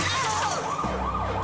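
Ambulance siren in the animated series Code Lyoko, a loud wailing tone sweeping up and down continuously and close throughout.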